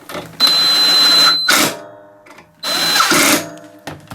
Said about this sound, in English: Then this, you then put the 2 screws in.